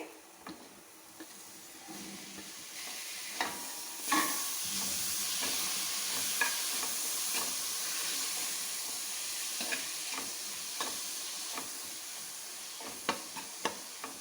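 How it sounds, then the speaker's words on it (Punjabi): Snake gourd seeds roast in a spice tempering, giving a soft, steady sizzle with scattered light clicks and scrapes from stirring, fairly quiet and with no talking. "ਇੱਕ ਤੋਂ 2 ਮਿੰਟ ਲਈ ਅਸੀਂ ਤੜਕੇ 'ਚ ਇਹਨਾਂ ਨੂੰ ਭੁੰਨ ਲਾਂਗੇ"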